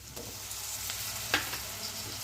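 Kashmiri chili powder being stirred in a frying pan while making macaroni: a soft, steady sizzle close by, with one brief scrape of the spoon midway and no talking.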